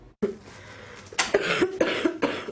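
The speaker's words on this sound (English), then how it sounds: "It is a familiar sound this time of year, that hacking cough." A series of harsh, hacking coughs, several bursts in quick succession, close and loud with no talking.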